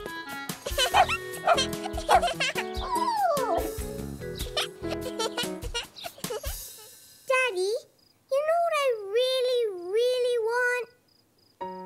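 A little white cartoon dog in a park yaps in short, sharp barks and whimpers amid a busy mix of voices and music, then gives a run of high, wavering whines near the end.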